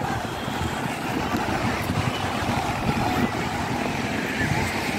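Banana boat ride on the open sea, with a continuous roar of towing engine, rushing water and wind buffeting the microphone, loud and unbroken throughout.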